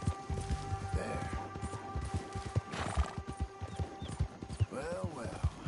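A horse in the Red Dead Redemption 2 video game gives several shrill neighs while its hooves clop steadily and close, under a faint voice.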